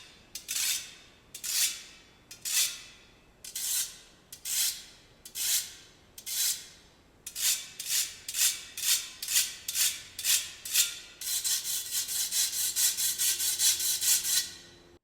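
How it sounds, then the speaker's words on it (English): Kebab skewer scraped across aluminum and stainless steel cheese and garlic graters, giving close, loud rasping strokes, slow and evenly spaced at first, then quicker, ending in a fast continuous run of bright metallic scrapes. "Cheese and garlic graters with a kebab skewer."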